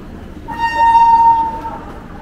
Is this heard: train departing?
yes